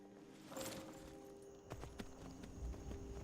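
Shadowmere, a horse in Skyrim, clip-clops at a walk, a few soft hoof strikes landing in the second half over a faint ambient hum, fairly quiet.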